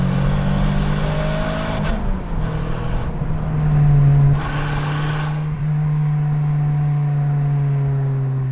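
Renault Clio Williams 3 hot hatch driven hard, its engine revving up and down through double-declutched downshifts with sharp throttle blips and brief lifts, a loud nearby whine rising and settling across the run.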